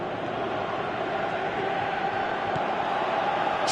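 A virtual stadium crowd in the PES 2018 football video game roars in a continuous broad wash of noise, moderately loud and sustained.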